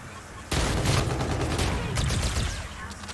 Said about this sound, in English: Looks like he is shooting somebody.